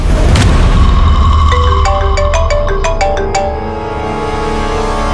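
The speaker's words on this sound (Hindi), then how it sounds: "आ गया सीआईडी वालों का फोन।" A phone rings with a bright electronic ringtone, a rapid sequence of tonal beeps and chimes repeating loudly and close, over a low background rumble, with no speech.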